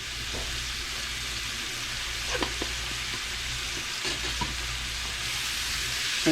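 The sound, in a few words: parsley and spices frying for okra stew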